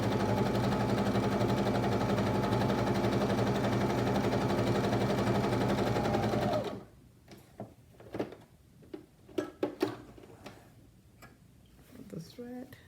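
A Janome Magnolia 7318 domestic sewing machine runs a steady, loud stitching whir for several seconds, then stops, leaving scattered clicks and handling noises.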